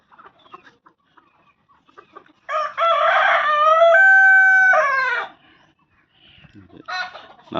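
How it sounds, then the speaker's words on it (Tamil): Black hens cluck softly in a coop before a rooster lets out one long, loud crow close by, followed by more scattered clucking from the flock. "இது கருங்கோழி கிட்டு. இதில் இருப்பது கருங்கோழி."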